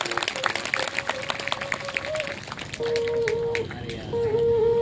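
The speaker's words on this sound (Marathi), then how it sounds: "टाळ्या वाजवून त्यांचं स्वागत करा" An audience at a religious discourse claps to welcome the visiting holy men. The clapping starts as a loud burst, then fades into crowd voices and sustained musical tones.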